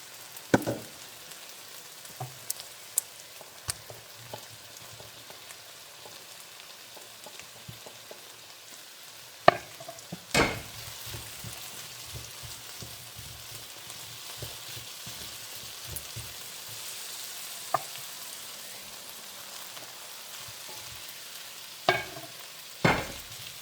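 Potatoes, onions and sausages fry in a pan for a breakfast hash, a soft constant sizzle broken by repeated spoon scrapes and knocks against the pan.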